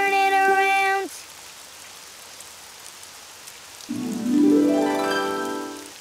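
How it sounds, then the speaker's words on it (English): Cartoon rain falling outside, a steady soft patter running throughout beneath brief tonal sung or musical notes at the start and end. "Oh, it's raining outside."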